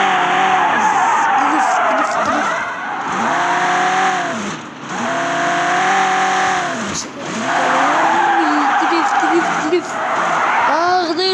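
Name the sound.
car drifting with tire squeal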